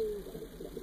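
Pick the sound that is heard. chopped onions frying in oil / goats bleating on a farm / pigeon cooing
pigeon cooing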